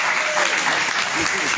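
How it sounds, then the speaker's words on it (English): Audience applause at a museum appreciation event for Memphis musicians, a dense, steady clapping from a crowd that fills the whole short stretch, with a voice faintly audible underneath. "Let's give this guy a round of applause for always thinking about somebody else."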